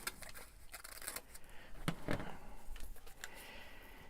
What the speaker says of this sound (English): I guess I'm going to cut this part